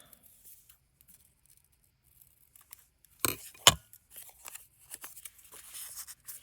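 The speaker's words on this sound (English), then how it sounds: "Got my scissors." Scissors snip paper for a small flipbook craft made from a tea box: two crisp, close cuts in quick succession after a quiet start, followed by soft rustling and handling of paper.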